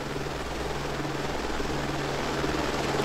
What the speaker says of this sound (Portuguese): É o helicóptero ali que tá atirando.